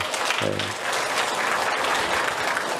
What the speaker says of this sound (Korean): 우리 영광 받으신 하나님 앞에 다시 한번 감사와 영광의 박수 올려드립니다